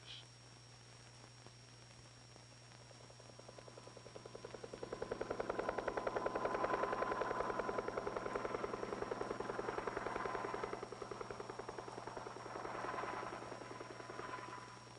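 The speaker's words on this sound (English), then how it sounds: "Air Force helicopters survey and monitor the acres of blast area with sensitive radiation counters" Air Force helicopters flying over a desert nuclear test blast area in 1951, a steady rotor drone swelling as it nears, holding loud for several seconds, then easing off and pulsing on under a constant low hum.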